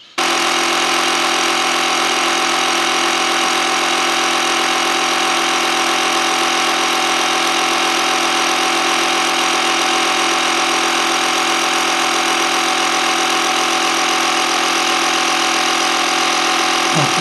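A Bergmann Striker digital tyre inflator, set to 34 psi, runs while pumping up a car tyre. It makes a loud, steady mechanical drone that holds unchanged for about seventeen seconds, close up and without talk.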